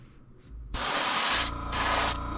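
An airbrush sprays paint onto a fishing lure in two loud, steady hissing bursts separated by a short pause, close to the mic, with no talking.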